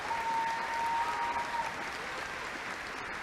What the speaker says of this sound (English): And now you may applaud.